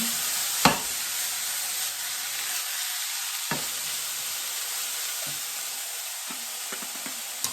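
A Cajun chicken sausage linguine with garlic sizzles steadily in a pan as it is stirred, with a few sharp utensil knocks rising above the continuous loud frying hiss.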